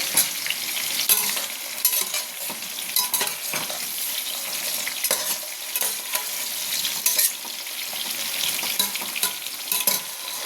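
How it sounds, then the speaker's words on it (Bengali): Stalk khichuri is stirred as it fries in a pan, giving a continuous bright sizzle with soft scraping and shuffling from the stirring throughout, without any talk. "একটু নাড়িয়ে দেবো।"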